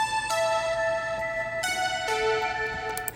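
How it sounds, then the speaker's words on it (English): Layered Juno synth melody doubled by a bell, sustained bright tones stepping through a few notes over a steady low bed, clear and upfront with no voices. "Another one of the main melodies that you're hearing in the chorus comes from this synth part, also a Juno, along with a bell"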